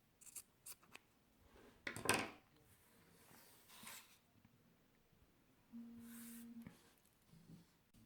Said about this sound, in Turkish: bu kalan iplerimizi düzgün bir şekilde kesiyorum